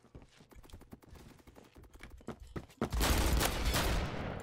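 Shotgun blasts in the first-person shooter Phantom Forces: a string of sharp, close shots in quick succession, then a dense, loud roar of overlapping gunfire and explosions that fills the last second and a half.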